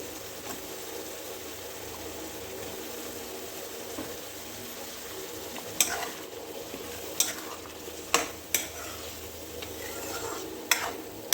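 Potatoes stir-fry in a masala, giving a steady soft sizzle of frying with several sharp spoon scrapes and clinks against the pan, and no voices.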